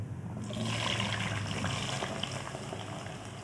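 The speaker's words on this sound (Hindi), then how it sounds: "और सबसे पहले मैं आलूओं को फ्राई कर लूँगी तेल में।" Potato pieces sizzle and bubble in hot oil in a pan, a soft, steady frying hiss with a slightly louder burst as they go in, heard close with no talking.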